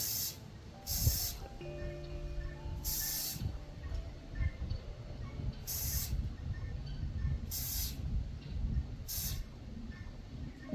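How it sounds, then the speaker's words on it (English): Several short hissing bursts of spray adhesive from a can, spaced a second or two apart, over a low background hum with faint tonal whine. "We're going to take this glue boost and spray it,"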